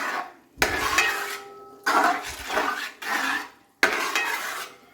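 A jaggery mixture for ada pradhaman is stirred in a pot, with a spoon scraping and knocking the metal in four strong passes broken by brief pauses, close and clear.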